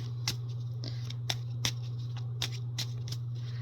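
Light crisp riffling snaps of a tarot deck being shuffled, several short bursts at irregular intervals over a steady low electrical hum.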